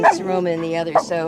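An older dog with arthritis and two bad legs, inside a Class C motorhome, gives a couple of short barks mixed in with someone talking nearby.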